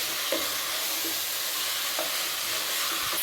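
Chicken with a little turmeric powder stirred and sautéed in a pan, giving a steady close sizzle with repeated scraping strokes of the spoon against the pan, no voices.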